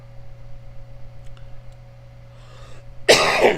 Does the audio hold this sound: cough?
yes